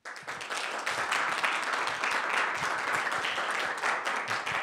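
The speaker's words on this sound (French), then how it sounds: "Merci de cet applaudissement nourri et chaleureux." Warm, sustained audience applause in a parish gathering in Angoulême, a thick wash of many hands clapping at a fairly moderate level throughout, with no speech over it.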